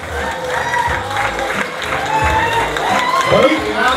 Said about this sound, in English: Everybody, clap your hands, make some noise.